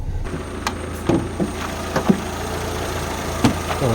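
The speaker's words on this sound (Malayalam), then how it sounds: "സ്റ്റാർട്ടിങ്ങിൽ എഞ്ചിൻ എന്നാ സൈലൻ്റാണ് നോക്കിയേ" A used car engine idles at low volume, giving a steady, quiet hum. A few light clicks and taps sound nearby, and no one speaks.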